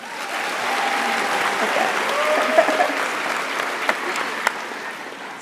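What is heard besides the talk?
audience hand claps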